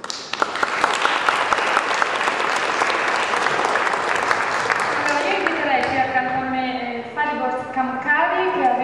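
An audience breaks into sustained, dense applause that fills the room loudly, then thins into scattered claps as a voice begins speaking over the fading clapping.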